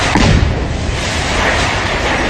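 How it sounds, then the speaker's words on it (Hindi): A house blown up in a demolition blast gives a loud explosion: a sharp boom opens, then a long rolling roar and rumble trails off without fading, with no voices. "इस तरह घर को उड़ाने के बाद जोरदार धमाका हुआ"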